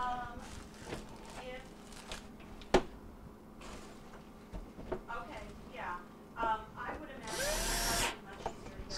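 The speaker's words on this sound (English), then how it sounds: "We'll just put our screws back in." Power driver screwing Phillips screws into a Frigidaire dishwasher panel, a brief whir near the end after scattered clicks and handling noises, with speech in the background.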